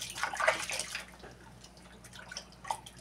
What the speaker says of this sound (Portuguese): Agora vamos enxaguar.